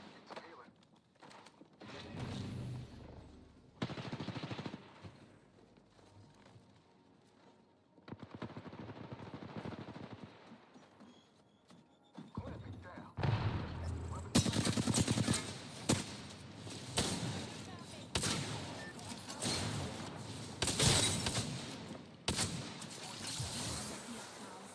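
Gunfire in the Apex Legends video game: bursts of rapid shots and single cracks, growing louder and denser in the second half, with people talking over it.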